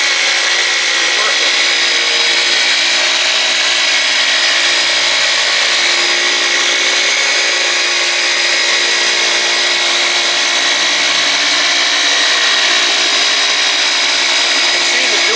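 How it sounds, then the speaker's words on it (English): A Flex dual action buffer runs steadily on a vehicle during detailing, a loud continuous high-pitched motor whir with a constant hiss, close and unbroken with no talk over it. "You can see the dual action on the buffer."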